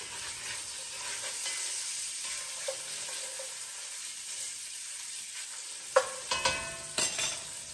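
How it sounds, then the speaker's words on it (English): Bacon sizzling steadily in a pan for corn chowder, a constant bright frying hiss, with a few scraping stirs and clacks of a utensil against the pan toward the end; no talking. "Okay, stir my bacon again."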